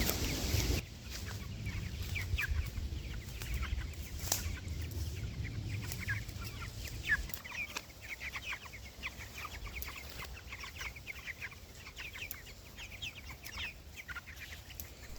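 Meat chickens raised on a homestead cluck steadily throughout, a dense chorus of overlapping clucks and chirps from a flock nearby, with some low rumbling background noise early on.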